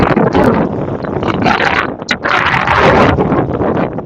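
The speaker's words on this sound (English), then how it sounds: "it is super windy" Strong wind buffets the microphone in a loud, continuous roar, gusting unevenly with brief dips and surges.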